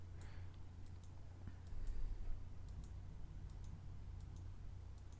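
Mouse clicks sound during a GeoGuessr game, a scattered series of faint, sharp ticks over a steady low background hum, with no talking.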